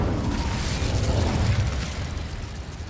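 Confringo and Incendio fire spells go off in Hogwarts Legacy, a loud, close burst of fiery explosion that booms and roars, then tails off into a crackling rush.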